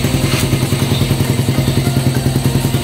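A Bajaj Raider 150 motorcycle fitted with a dome piston runs loud and close, its engine beating out a rapid, steady, rhythmic thumping with a clattery edge and no voices.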